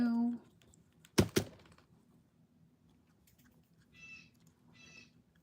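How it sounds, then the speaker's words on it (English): A blue jay gives two short, harsh, raspy calls a second apart, moderately distant, after a brief voice fragment and a sharp double knock close by. "That's a blue jay."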